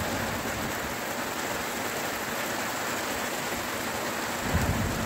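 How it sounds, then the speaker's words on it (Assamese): Heavy rain pours onto a tin-roofed veranda in a village in Assam, a dense, loud, continuous hiss and patter with a low rumble swelling near the end. "চিমচিমকৈ আহিলেই বৰষুণ দেখোন।"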